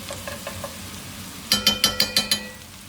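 Spices for a Thai curry roux fry and get stirred in oil, with a soft sizzle and a few light scraping strokes, then six sharp, evenly spaced metallic clinks close up.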